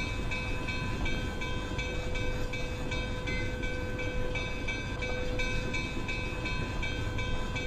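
A heavy train in the Railworks train simulator game rumbles along at about 25 mph with a continuous, loud, steady rolling drone and sustained mechanical tones, and no voices over it.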